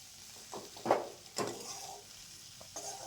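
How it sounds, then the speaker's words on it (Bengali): Spices and drumsticks are stirred in a frying pan for a rohu fish curry, with a few soft scrapes and taps of a spatula over a faint, low sizzle. "এবার আমি মশলাগুলি ডাটার সাথে ভালো করে মিশিয়ে আরও পাঁচ ছয় মিনিট কষিয়ে"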